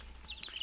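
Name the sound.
chickens clucking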